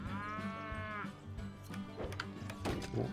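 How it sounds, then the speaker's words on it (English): Cattle in the Railway Empire game let out a drawn-out moo, then shorter lowing calls and clunks over a steady ambient background. "You hearing all those moo sounds?"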